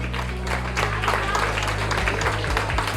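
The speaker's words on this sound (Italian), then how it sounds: "Forse meritano un applauso anche i nostri giurati" An audience at a regional beauty pageant final in Solesino claps for the jury, steady applause mixed with low musical hum and some voices in the background.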